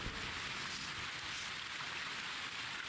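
Steady rain in the video game Terra Nil hisses continuously as a dense, even wash of falling drops, with no other sound standing out.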